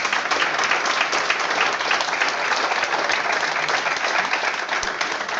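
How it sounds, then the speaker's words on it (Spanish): Steady applause fills a summit hall for about five seconds, a dense, even crowd clapping without pause or voices on top. "Entonces pido un aplauso para él."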